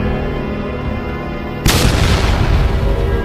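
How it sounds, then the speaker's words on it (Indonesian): A bazooka rocket explosion sound effect in an animated zombie battle, a sudden deep boom that bursts in after a steady background tone and rumbles on loudly to the end. "Bazooka diangkat, peluru meluncur, dan dalam sekejap, zombie Dontol bersama pasukannya lenyap dalam ledakan."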